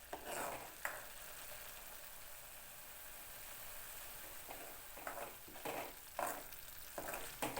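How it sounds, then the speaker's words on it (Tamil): Chilli powder and spices sauté in a pan for chana masala, giving a quiet, steady sizzle. Occasional stirring scrapes and clinks rise above it, with no talk. "சேர்த்துட்டு இதை நல்லா வதக்கி விடுங்க."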